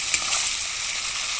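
Spice paste sizzles and fries steadily in a pan for Bengali prawn malai curry, a dense, continuous crackling hiss close by with no one talking.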